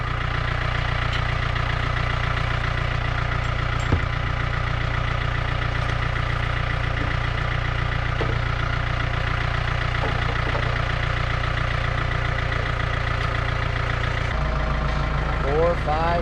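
A tractor engine idles continuously close by, its low, deep throb unchanging, with a brief shift in tone near the end.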